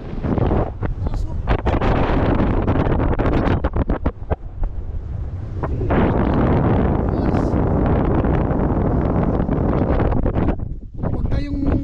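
Strong gusty wind on a mountain trek buffeting the microphone in loud, rough roaring bursts, with a person talking underneath.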